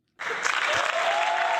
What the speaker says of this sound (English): I got to give him a round of applause